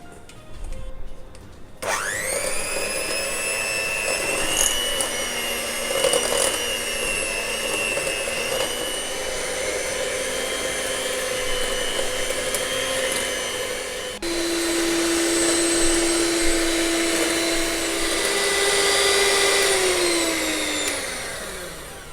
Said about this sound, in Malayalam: ഇത് നല്ലതായിട്ടൊരു ഹാൻഡ് മിക്സറോ അല്ലെങ്കിൽ വിസ്കോ ഉപയോഗിച്ച് ഒരു 10 മിനിറ്റ് എങ്കിലും നല്ലതായിട്ട് മിക്സ് ചെയ്യുക.